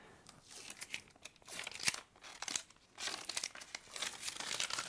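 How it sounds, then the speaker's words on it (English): Tape peeled off all at once while making a guitar fretboard, close crinkling and tearing rasps in several uneven bursts, with no talking. "I'm going to peel the tape off all at once."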